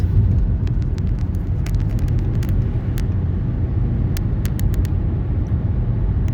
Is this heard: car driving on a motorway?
yes